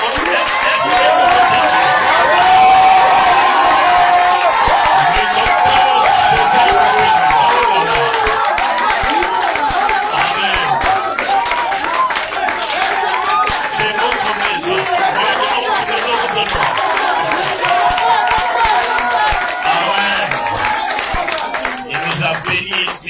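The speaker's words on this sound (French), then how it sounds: "nous honorons avec de grandes acclamations le docteur Joseph" Dense, loud crowd cheering and clapping for Doctor Joseph on the eighth day of a Passover church gathering, a steady wash of applause and voices held throughout with chatter mixed in.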